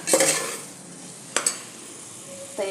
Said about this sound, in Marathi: आता याच्यात घालूया फ्लावर, गाजर, सिमला मिरची, या सगळ्या भाज्या घालायच्या।